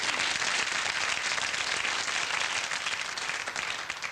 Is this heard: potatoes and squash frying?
no